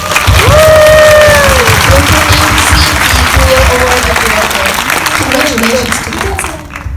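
An audience at a film festival Q&A in Busan applauds a director's award, a loud dense burst of clapping with a faint cheer, while a host's voice talks over it.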